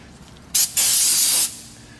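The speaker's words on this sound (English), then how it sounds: "This is just brake clean I'm using." Brake cleaner sprayed onto a car brake rotor during a rear caliper job on a 1993 Acura Integra: a short loud aerosol hiss, a brief break, then a second sustained burst of about a second.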